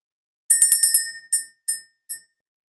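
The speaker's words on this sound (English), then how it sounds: "I'm going to go ahead and ring the bell, clear the energy" A small bright bell rings during a live spiritual energy-clearing session: a quick run of five close strikes, then three more spaced apart, each ringing clear and high before fading into silence.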